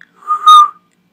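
A single short whistled note, clear and close, rising slightly and lasting under a second, then silence.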